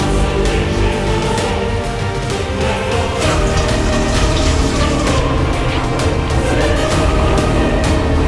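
A dishwasher blasts hot, pressurized water jets onto a Redmi Note 14 Pro+ phone, making a loud, steady rushing spray that continues without pause from start to finish.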